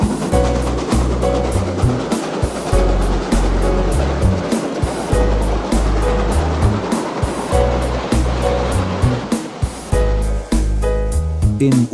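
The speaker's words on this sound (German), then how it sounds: "In Oberhof ergänzt 526666 ihre Wasservorräte." Steam locomotive 52 6666 taking on water at Oberhof, a steady loud rush of pouring water with rhythmic low pulsing from the engine throughout, close by and with no talking.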